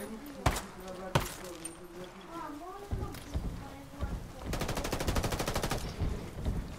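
Pistol shots in Ghost Recon Wildlands crack out loud and singly under constant excited chatter from several players. A fast rattling burst of rapid fire follows near the end.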